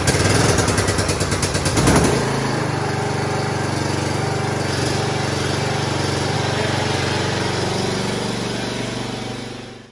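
A John Deere LA125 lawn tractor with a Briggs and Stratton engine, repaired after a blown head gasket, runs loudly and steadily nearby, a rough sputtering start settling into a constant engine drone.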